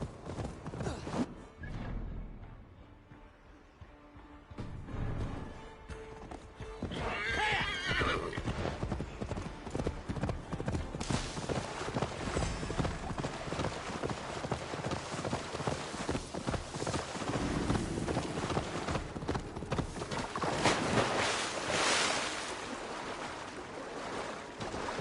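A horse gallops in Assassin's Creed Valhalla with steady, rapid hoofbeats, neighing and whinnying early on, and a rushing outdoor wash of water or wind behind the hooves.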